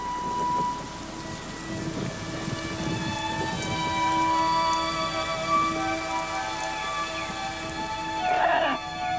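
Steady rainy-season rain falls at the Maya site of Copan, a continuous dense patter of drops on surfaces with a faint rumble of thunder under it.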